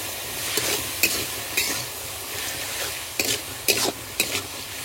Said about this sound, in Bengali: আলুটা ভালো করে ভেজে নিয়েছি